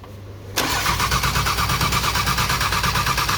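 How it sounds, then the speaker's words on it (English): An Audi RS3 DAZA engine, just rebuilt, fires up on its first start after quiet electrical hum, settling into a loud, steady, pulsing idle close by with no talk. "RS3 DAZA, first start after rebuilding the engine."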